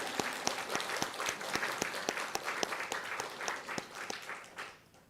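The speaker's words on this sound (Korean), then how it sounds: "우리 성가대원들 전부에게 감사하는 마음을 담아 우리 박수 보내겠습니다." A church congregation applauds its choir during a Sunday worship service: sustained, dense clapping from many hands with sharp individual claps standing out, fading slightly toward the end.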